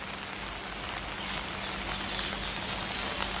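Heavy rain pours down in Delhi, a dense, steady hiss of drops hitting surfaces close by, continuous and even throughout with no voices.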